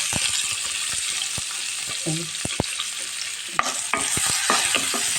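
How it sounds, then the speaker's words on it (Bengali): Chopped onion frying in oil in a frying pan, a steady sizzle punctuated by frequent scraping and tapping of a spatula stirring. "ফ্রাই প্যানে তেল দিয়ে দিলাম মাছ ভাজার তেলটাও ঢেলে দিলাম তারপর অল্প করে তেল দিলাম এখন পেঁচকুচিটা দিয়ে দেবো"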